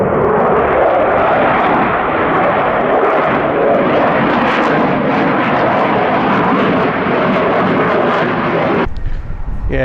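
Loud, sustained aircraft engine roar of a plane flying overhead at the RIAT Fairford airshow, steady broadband noise for most of the clip before cutting off abruptly near the end.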